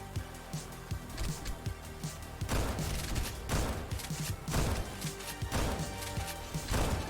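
Repeated shotgun blasts in the video game Overly Hardcore Parkour, punchy cracking hits in uneven rhythm amid busy game noise, moderately loud.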